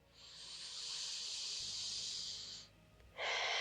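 A long, airy breath drawn in during a guided meditation, a steady hiss lasting over two seconds, followed by a brief pause and the start of another breath, close and alone.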